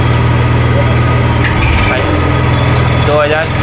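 A Honda EU70is generator runs with a steady, loud mechanical hum and low engine drone, the tone shifting slightly midway as someone talks over it.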